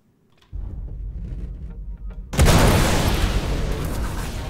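Three size 4 missiles strike a Sabre ship in Star Citizen, a low rumbling thud that gives way to a loud, sustained explosive roar and crackle, close and heavy.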